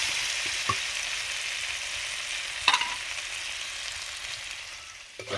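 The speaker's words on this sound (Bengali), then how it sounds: "লাল লাল করে আলুগুলো আমি ভেজে নেব।" Potatoes fry in oil in a Bengali village kitchen, giving a steady sizzle throughout with a few brief stirring knocks against the pan.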